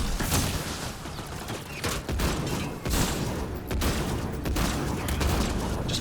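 Rapid bursts of gunfire in Mass Effect: Andromeda, dense crackling volleys and sharp single shots repeating throughout, loud and close in a hectic firefight with no talk.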